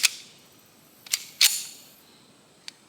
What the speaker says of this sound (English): I'll probably only do one magazine through the Ithaca.